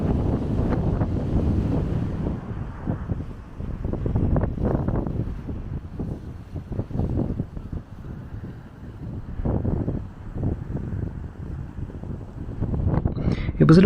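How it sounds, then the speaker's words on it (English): Strong wind on an Isle of Wight seafront buffets the microphone with a steady low roar and gusty surges throughout, loud and close, with no clear talk. "it was super windy that day"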